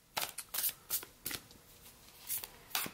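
Oracle cards shuffled by hand in a quiet room, a series of soft papery riffles and flutters in short separate bursts, close and fairly faint.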